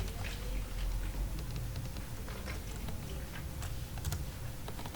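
Computer keyboard typing, rapid irregular clicks of keys pressed up close, continuous over a faint background hiss, with no talking.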